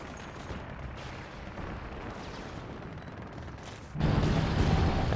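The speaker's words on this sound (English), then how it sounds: "my artillery's just going down on the American position here again" Artillery barrage in the Company of Heroes 2 strategy game, a continuous rumbling wash of distant shell impacts that swells into a louder, heavier blast near the end, with no talk.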